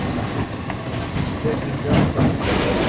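Inside a moving route 4 tram in Vinnytsia, a steady loud rumble and hiss of the car in motion with faint rail clatter, continuous throughout.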